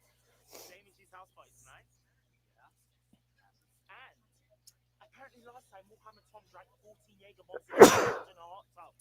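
A single loud, sharp sneeze bursts out near the end, following quiet casual conversation among a few people.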